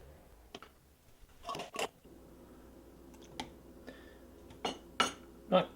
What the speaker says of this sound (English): Let's put one of those temporary lids on.